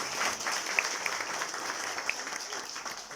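Applause from a seminar audience on Moroccan-Chinese tourism cooperation in Agadir, a steady patter of many hands clapping at moderate distance, fairly faint, with a couple of sharper individual claps standing out.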